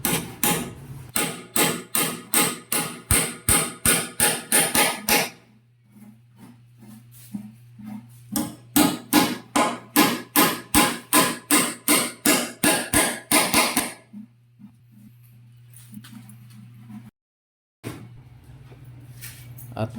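A hammer drives nails into a wooden door jamb in rapid bursts of sharp, loud strikes, separated by pauses with a steady low hum underneath.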